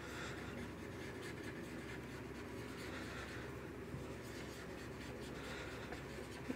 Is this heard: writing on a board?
yes